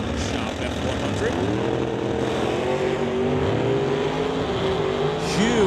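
A 1966 Mercury and a Ford F100 launch off the line at a drag race, engines roaring and pitch climbing as they pull away, steady and loud throughout.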